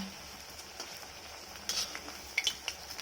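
Wheat-flour gulab jamun balls frying in hot oil in a large pan, with a soft steady sizzle that rises into louder bubbling crackles near the end, fairly faint and without speech.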